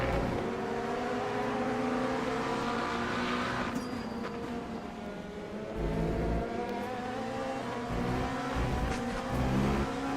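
An LMP2 race car engine in the Le Mans Ultimate sim racing game revs and holds high pitch through upshifts and lifts, with a loud, continuous wail that dips briefly mid-lap before climbing again.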